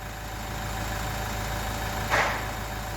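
Nissan Qashqai 1.5 dCi diesel engine idling after DPF cleaning, a steady low rumbling drone close by, with one brief higher hiss or clatter near the end and no talking.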